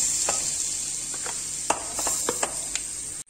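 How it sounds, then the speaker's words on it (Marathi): Beef with spices stirred in a hot pan: a constant high sizzle with scattered scraping clicks from the spoon against the pan, close and moderately loud, no talking. "നമുക്ക് നന്നായിട്ട് ഒന്ന് മിക്സ് ചെയ്യാം"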